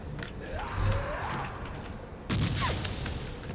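Gunfire in the game Meet Your Maker: one shot cracks early, then a second louder burst lands near the two-thirds mark over a low mechanical hum and creaks.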